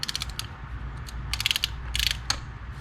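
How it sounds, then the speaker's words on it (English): Torque wrench ratcheting as it tightens a spark plug on a Kia 2.4L engine, a close series of quick metallic clicks in short bursts with brief pauses. "If you do have a torque wrench, go ahead and torque it to around 13 foot-pounds"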